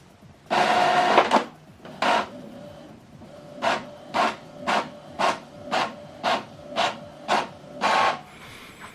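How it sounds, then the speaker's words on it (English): A printer prints a document in a run of rhythmic mechanical bursts: a longer feed at the start, then about ten evenly spaced, close, loud passes with short quiet gaps between them. "So the document is printing."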